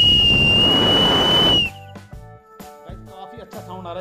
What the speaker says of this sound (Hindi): इसके अंदर से छोटी सी सीटी है, लेकिन साउंड काफी ज्यादा औसम है